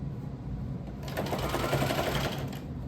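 A sewing machine runs a straight stitch, a close, steady mechanical whir that picks up pace partway through, heard alone without talk.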